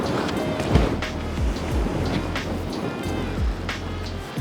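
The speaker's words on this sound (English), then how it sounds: "we've got a decent left to right wind, kind of pushing about 15 miles an hour" Steady outdoor wind of about 15 miles an hour, blowing left to right across a disc golf park, roars and buffets the microphone continuously with low gusty rumble throughout.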